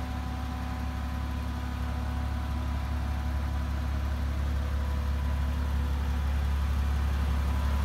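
A matte black 2017 Mercedes G65 AMG with its V12 engine idling, a steady low rumble with a faint hum above it, held evenly throughout at moderate level with no voices.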